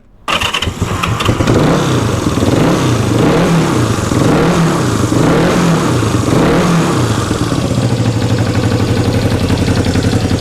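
A 1974 Honda CB360 motorcycle engine fires up and is revved repeatedly while cold, rising and falling in regular bursts before settling into a loud, steady idle.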